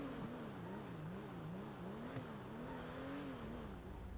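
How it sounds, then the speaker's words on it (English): Faint, steady engine drone with a gently wavering pitch from the Vorschlagheimer in GTA V, a game car modelled on the Mercedes-Benz W124, holding a low hum throughout with no talk. "This is the Vorschlagheimer, which is based mostly on a Mercedes-Benz W124"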